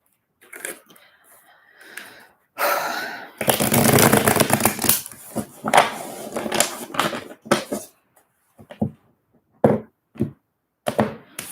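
Tarot cards are shuffled for a reading: quiet riffling at first, then a long, dense burst of flicking and slapping cards followed by shorter separate shuffles, with a person talking in between.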